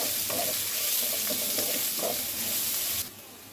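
Onion, garlic and green chillies sizzle in hot oil tempered with black cumin, a loud close hiss with a few soft stirring taps, dropping off abruptly near the end.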